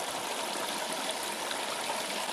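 Water sprays steadily in a gold wash plant tub, a continuous broadband hiss and splash that stays near and even from start to finish, with no talking.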